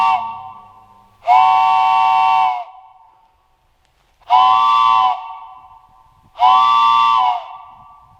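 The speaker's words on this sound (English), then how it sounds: "ready to blow our train whistle" Steam-style train whistle sounded inside Spooners Tunnel, three long sustained blasts with pauses between them, loud and ringing with a reverberant tail.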